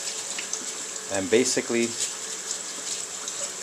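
Kitchen tap water runs steadily while rice is rinsed, a continuous hissing flow with a brief louder splash, and a person speaks briefly over it.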